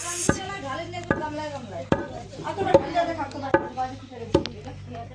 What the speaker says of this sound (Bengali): আর এখানে পেঁয়াজ কাটা হচ্ছে কাটার দিয়ে